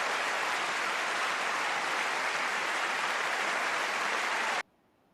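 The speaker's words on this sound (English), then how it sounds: "that applause is a little long" Loud, uniform audience applause roars continuously, then cuts off abruptly near the end, leaving near silence.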